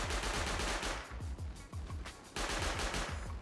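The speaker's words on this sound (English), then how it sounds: "our friend Pew Pew is going to test our quarry turret" Quarry turret in the video game Rust firing a rapid automatic burst, loud dense rat-a-tat shots continuing almost without pause, no voices.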